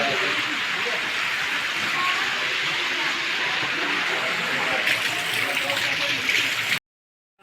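Water rushes fast and steadily down a mountain slope on the Vaishno Devi pilgrimage route in Jammu and Kashmir. The roar is loud and unbroken, then cuts off abruptly near the end.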